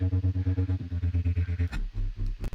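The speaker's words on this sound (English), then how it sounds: "I use the reverb filter, and that's where that crazy like ripping, tearing sound is coming from" A distorted Serum synth pulses rhythmically, then breaks into a harsh ripping, tearing texture from a reverb filter, with heavy reverb.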